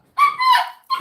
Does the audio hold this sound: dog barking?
yes